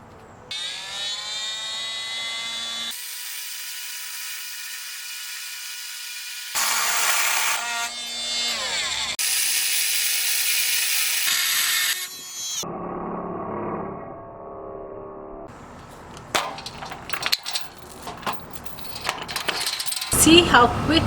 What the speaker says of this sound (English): See how quick and easy it was to cut a chain link with the multi-tool.